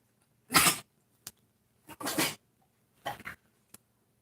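Buster the dog gags in short harsh bursts, three longer retching coughs and a few quick clicks between them, close against a quiet background.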